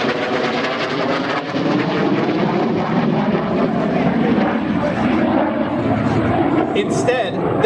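F-22 Raptor fighter jet flying a demonstration at the 2015 New York Air Show, its engines giving a loud, continuous roar that holds steady throughout.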